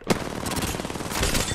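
Rapid gunfire in the Apex Legends video game on PS4, a short dense burst of repeated shots lasting under two seconds.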